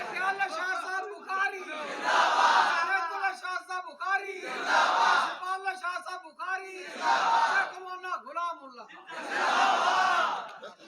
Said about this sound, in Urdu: وڈیاں دے نعرے بڑے خلوص نال لا رہے ہیں